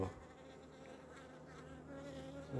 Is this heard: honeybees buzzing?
yes